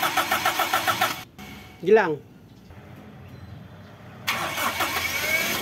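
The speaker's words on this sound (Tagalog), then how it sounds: "Tapos paandarin ko na itong makina" A Toyota Revo engine cranks and catches, then settles into a steady rhythmic idle, while a person talks nearby.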